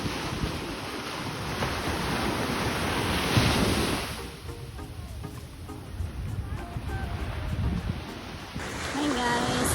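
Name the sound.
sea waves at the shore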